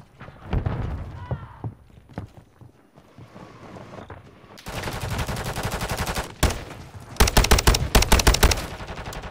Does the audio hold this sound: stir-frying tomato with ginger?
no